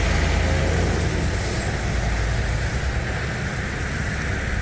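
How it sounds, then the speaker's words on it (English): Big truck carrying a steel load passing at the Skeoch Roundabout in Stirling, Scotland, heard as a loud, steady roar of engine and road noise that holds throughout with no talk over it. "We've got a big truck there"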